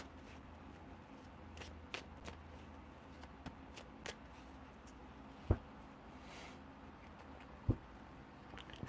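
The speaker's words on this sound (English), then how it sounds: "I've been shuffling these cards" Playing cards being shuffled, a soft papery riffle and shuffle with scattered sharp clicks and taps, close and fairly quiet, with no talk.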